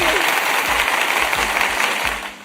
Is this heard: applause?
yes